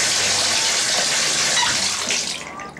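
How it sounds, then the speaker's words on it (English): A chicken is plunged into water, a close, continuous splashing and sloshing that holds steady and then tapers off toward the end, with no talking. "I'm going to put the chicken down in the water and get it wet."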